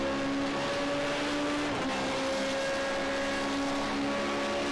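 A Formula Renault 3.5 race car engine at Spa-Francorchamps screams at high revs with steady harmonic whine, loud and continuous, a brief dip around mid-clip as gears shift, with no voices over it.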